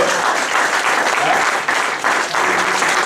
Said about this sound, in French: Est-ce qu'on peut acclamer pour la gloire du Seigneur?